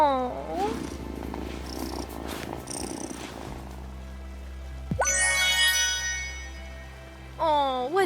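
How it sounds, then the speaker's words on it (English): A cat purrs in the video game Wylde Flowers, a low rumbling purr that runs under chiming game jingles and rising musical tones, with a soft voice heard early on. "Oh, what a good purr."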